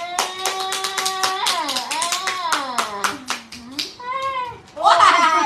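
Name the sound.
children clapping hands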